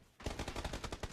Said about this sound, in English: Zach is taking silent shots from the guy who almost downed Joey